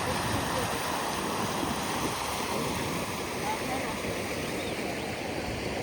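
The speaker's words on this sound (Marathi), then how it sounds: "तुम्हाला पाण्याचा आवाज येत असेल कसा येतो" A village river flows steadily with a broad, continuous rushing wash of water that stays close and even from start to finish.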